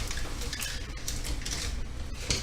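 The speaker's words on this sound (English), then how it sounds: "I'm going to give that a little stir." Pasta being stirred in a pot of boiling water for an oyster and artichoke dish, with a steady clatter and scrape of a utensil against the metal pot, close and continuous over a low background rumble.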